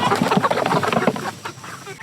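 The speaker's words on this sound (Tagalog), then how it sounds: "So ito yung ating pa 96 na mga manok." Free-range chickens are let out with busy, overlapping clucking and squawking from a large flock close by, steady throughout with no talk.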